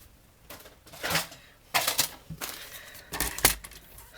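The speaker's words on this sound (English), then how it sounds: "I'm just going to trim it off on my paper trimmer." Stamped craft paper is sliced on a paper trimmer, with three separate scraping, clicking passes of the blade at a steady pace, close and fairly soft, with no talking.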